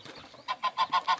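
A turkey hen on a Brazilian smallholding gives five rhythmic, fairly loud honking calls in quick succession, close by, after a brief stretch of faint background noise.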